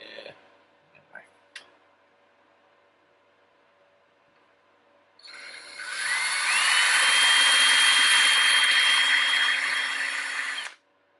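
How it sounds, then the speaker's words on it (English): A small power drill with a tiny bit bores into a Washburn Lyon project guitar during final setup, a loud steady whine running for about five seconds after a few soft taps and handling clicks. "Alright, so tiny drill bit."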